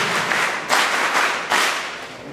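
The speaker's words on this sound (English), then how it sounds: "Now for the director. Let us clap." An audience at a school admissions ceremony bursts into applause for the director, a dense wash of many hands clapping at steady volume with two sharp surges as the clapping swells.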